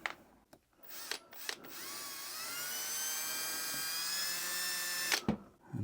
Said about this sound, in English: find a suitable drill